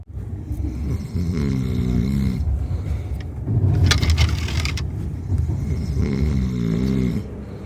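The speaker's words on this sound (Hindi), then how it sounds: "जो लोग ट्रेनों में खर्राटे लेते हैं" Loud, rasping snores repeat in slow cycles, close by, over a constant rumbling background of a moving train in a second AC sleeper coach.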